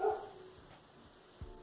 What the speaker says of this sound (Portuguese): E os cachorros começaram a latir.